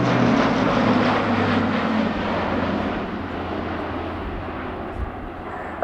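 An Airbus A400M military transport flies a display at RIAT 2017, its turboprop engines giving a loud, steady drone that slowly fades over several seconds, with no talk.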